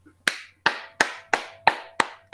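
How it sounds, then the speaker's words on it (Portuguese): Seven sharp hand claps in a steady, evenly spaced rhythm, close and fairly loud, with brief silence between each one. "Eu tenho que aplaudir isso"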